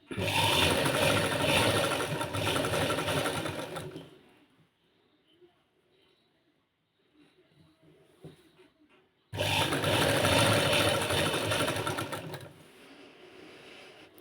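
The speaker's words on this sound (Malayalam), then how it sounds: "സ്റ്റിച്ച് ചെയ്യുമ്പോൾ അതിൻ്റെ അരികത്ത് കൂടെ തന്നെ ഇതുപോലെ സ്റ്റിച്ച് ചെയ്ത് കൊടുക്കാൻ വേണ്ടിയിട്ട് ശ്രദ്ധിക്കുക" Sewing machine stitching along the edge of a shawl, running loud and steady for about four seconds, pausing with faint handling noises, then whirring again in another long burst.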